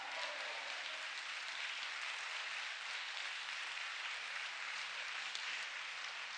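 A worship service congregation applauds loudly and continuously, a dense, even wash of clapping from a large crowd that stays steady from start to finish.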